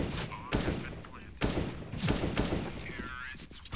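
An AK-47 fires repeated loud, sharp shots in a CS:GO match, several cracks spaced across a few seconds against in-game background noise, with a player's voice faintly present.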